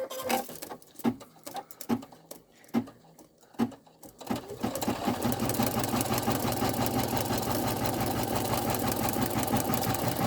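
An embroidery machine stitching a design on Mylar starts up after a few scattered clicks and taps, then settles into a steady rapid mechanical chatter that continues loud and close.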